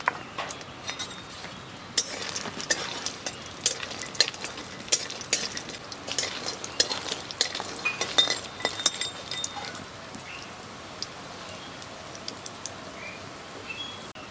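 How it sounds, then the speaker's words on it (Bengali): Lentil dumplings (dal bori) frying in mustard oil in a heated kadai, with faint sizzling under scattered sharp clinks and scraping taps of a utensil against the pan, quiet and close, with no talk. "ডালের বড়িগুলো ভেজে নেব।"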